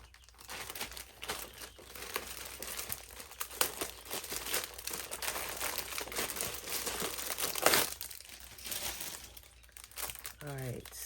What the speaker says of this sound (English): I'm going to grab one of my sheets of double-sided sticker sheet